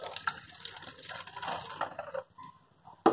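Water poured from the top into a column fitted with a balloon in a physics lab kit, a soft continuous splashing and trickling that fades out, ending in a brief sharp knock.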